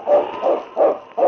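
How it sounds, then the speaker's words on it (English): Husky lead sled dog of the Northwest in a 1950 Yukon radio drama, four loud, evenly spaced barks in a steady rhythm, close and alone with no talk. "It's Yukon King, swiftest and strongest lead dog of the Northwest"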